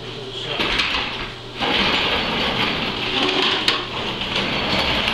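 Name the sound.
vacuum cleaning up cast iron chips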